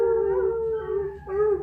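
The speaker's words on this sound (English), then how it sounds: "We sing along with the dog?" A dog howls close by in a long, wavering tone that dips, then rises again near the end; no other sounds.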